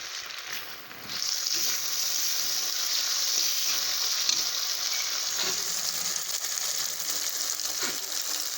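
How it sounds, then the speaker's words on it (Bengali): Ground spice paste and chopped tomatoes frying in oil, a dense steady hiss of sizzling that swells after a second and holds, with occasional soft stirring scrapes, close and fairly quiet, no speech. "বেটে রাখা মশলাগুলো তেলের মধ্যে একসাথে সব দিয়ে নাড়াচাড়া করে মশলাগুলো ভেজে নেব এইভাবে।"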